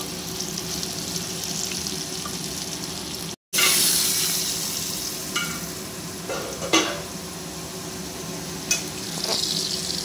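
Potatoes fry over medium heat in a steady, even sizzle, briefly cut off by a moment of silence, then resume with occasional spatula taps and stirring clicks, with no talking.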